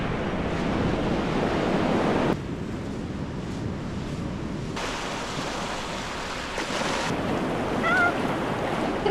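Ocean surf rolls and breaks on a calm stretch of beach, a steady broadband wash with a louder surge early on, buffeted by wind noise on the microphone throughout.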